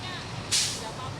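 Stalled street traffic in Surabaya: a low idling drone of trucks and buses, broken midway by one sharp hiss from a vehicle's air brake.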